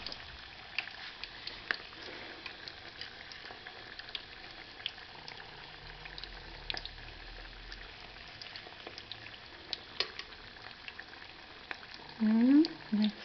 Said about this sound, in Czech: Už se to k sobě nelepí, smaží se to dobře.